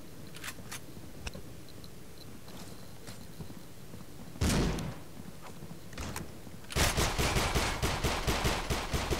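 Gunfire in the mobile shooter game Critical Ops, scattered single shots followed by a loud sustained burst of automatic fire near the end.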